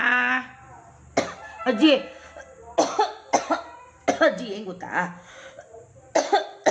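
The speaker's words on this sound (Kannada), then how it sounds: "ಅಯ್ಯೋ ಕೆಮ್ಮು ಬಂದ್ಬಿಡ್ತದೆ" An elderly woman coughs repeatedly in short, harsh bursts close to the mic, alternating with people talking in conversation.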